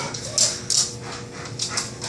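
Dogs pant quickly and let out faint, high whimpers close by, a short, soft run of breathy sounds with occasional thin whines.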